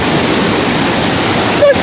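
Steady, dense rush of falling water close by, a broad continuous roar with no voices, ending with a brief faint tonal blip.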